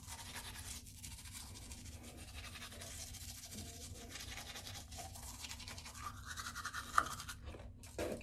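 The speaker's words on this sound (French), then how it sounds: "Dis-moi si je me brosse bien." Teeth being brushed with a toothbrush, soft scratchy bristle strokes repeating close to the mic at a quiet level, with a few small clicks and rustles.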